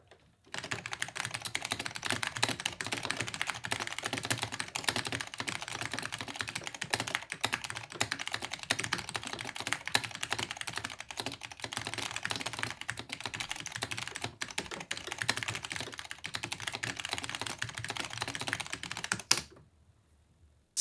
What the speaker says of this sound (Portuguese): obviamente queremos ver o desempenho do teclado.